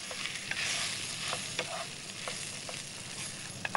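Rice and lentils are stirred and fried in a pan, giving a continuous close sizzle broken by several soft scraping strokes of a utensil, with no talking.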